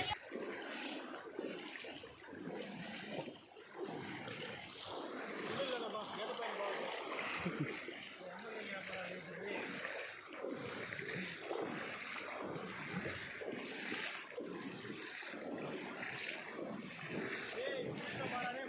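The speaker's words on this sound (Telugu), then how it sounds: "ఇప్పుడు వాటర్ సౌండ్ వినండి ఎలా వస్తుంది అనేసి" Flowing river water near a village pond, a steady broad wash with splashing and gusts of wind noise throughout, close and fairly loud, with voices talking faintly underneath.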